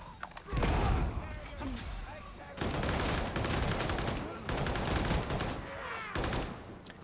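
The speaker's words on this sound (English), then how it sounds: "We're just shooting the enemy soldier!" Video game gunfire aimed at an enemy soldier, played on a Sparkle Intel Arc B580 graphics card: several loud bursts of rapid automatic fire in separate blocks, with pauses between, and a voice talking over parts of it.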